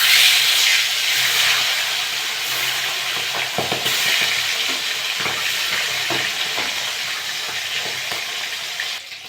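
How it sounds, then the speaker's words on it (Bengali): Tilapia fish pieces frying in hot mustard oil, a steady close sizzle and crackle with occasional spatter pops and stirring scrapes running throughout, no talking. "তেলটা গরম হয়ে গেছে, মাছগুলো ভেজে নেব।"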